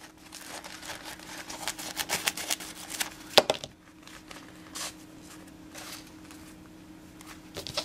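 Scissors cut through a paper napkin during a decoupage craft, making a run of crisp, close snips and paper rustles, with one louder crunch partway through before quieter scattered cuts.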